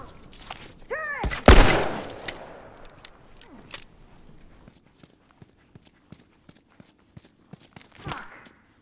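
A mounted turret fires in The Last of Us: a loud, dense burst of gunfire early on, followed by scattered sharp clicks and shots trailing off, with a brief rattle near the end.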